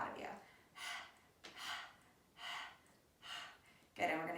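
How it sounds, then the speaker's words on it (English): Rapid panting breaths with the tongue out during a yoga breathing exercise, five or six short breathy bursts in an uneven rhythm, close and fairly soft. "So we're going to stick our tongue out. And as you pant, you're going to pull the navel in with each exhale."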